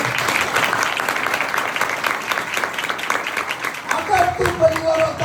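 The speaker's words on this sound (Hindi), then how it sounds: "यीशु मसीह के नाम में तालियां बजाओ।" A church congregation claps in praise during a Hindi sermon, a dense, steady round of applause that carries for several seconds before a voice starts speaking over its tail.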